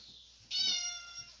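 A cat gives a single short, clear meow up close in a quiet indoor room, rising then trailing off over about a second.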